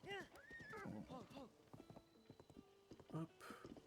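A horse in The Legend of Zelda: Tears of the Kingdom whinnies with rising, wavering neighs, then hooves clip-clop in a steady rhythm, close and clear with faint game sounds behind.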